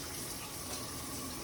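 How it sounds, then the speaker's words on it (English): Hot water runs steadily from a kitchen sink tap, a continuous close gushing splash as something is rinsed, with no talking. "and I'm gonna rinse them off with some hot water."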